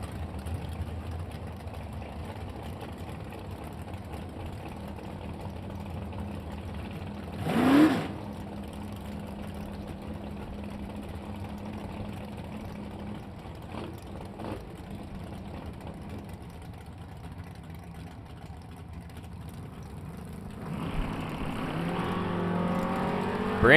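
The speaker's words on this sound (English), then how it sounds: "Brandon Bennett in the pickup truck trying to catch up to Chase Mead down 661" Drag racing vehicles, including a pickup truck, run at an ACE Ohio Events Summit Fall Slam drag strip. A low, distant engine hum is broken by one sharp roaring pass, and engine noise swells again near the end. No one speaks.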